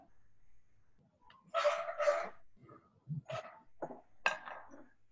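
A small dog lets out several short, sharp barks in a quiet room during a talk on educational inclusion, with faint clinks of dishes in the background.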